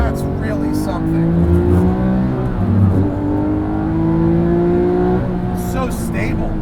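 Porsche 997 GT3 RS 4.0 climbing a hill in second gear, its engine note rising steadily and loud with a passing-car swell, while a voice talks over it.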